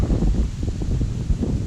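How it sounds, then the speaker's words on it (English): Strong wind buffets the microphone outdoors at a carp fly-fishing spot in Sussex, a loud, blustery low rumble with gusting surges throughout a short stretch and no speech. "I don't know if you're going to hear this so well because it's so windy"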